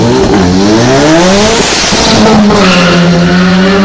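Rally cars at a rally event in Korczyna roar loudly and close, engines revving up and easing off in rising and falling pitch sweeps with crackling pops layered over the din.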